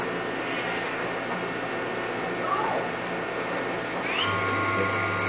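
The spindle of a 2004 Mori Seiki NH5000/40 machining center spins up, a rising whine climbing in pitch under steady shop background noise, with a low tone settling in near the end.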